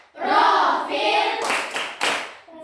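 Primary school pupils chant together and then break into a few loud, sharp unison claps in a short rhythmic pattern.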